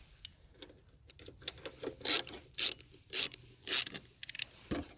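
A Phillips screwdriver loosening the tail light screws on a Hummer H3, giving a series of close, short gritty squeaks and rasps in uneven bursts, ending with a quick run of small clicks.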